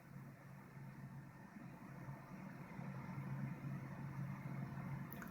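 A steady low engine drone hums without a break and swells slightly midway, from a small aircraft idling with the throttle fully off as it glides down toward the touchdown point during autoland testing.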